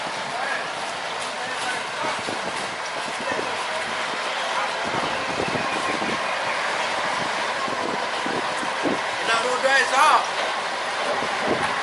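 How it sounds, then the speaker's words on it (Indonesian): A sugarcane lori locomotive rumbles and clatters along long-unused rails through banana trees, with a steady broadband roar, and people talk faintly beneath it. "Akhirnya lokomotif bisa melanjutkan perjalanan."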